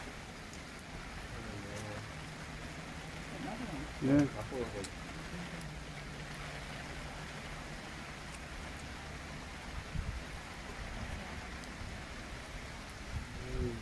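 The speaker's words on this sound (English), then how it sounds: "then it started to rain" Heavy rain pours steadily during the Brisbane floods, a dense hiss that runs unbroken through the whole stretch, with a brief thud or knock near the start and a voice speaking briefly over it.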